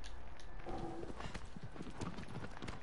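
A horse's hooves clip-clop in a quick, irregular rhythm at close range, with faint background noise.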